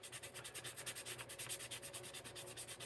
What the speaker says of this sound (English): We're going to just take this 223M and start sanding.